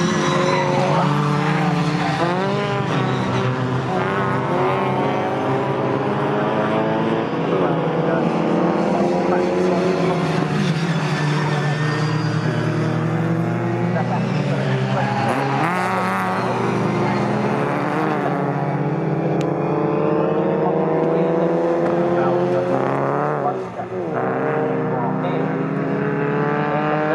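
MG Metro race cars at Snetterton circuit scream past in a pack, engines revving with rising and falling pitch, loud and continuous, under an excited commentator's voice.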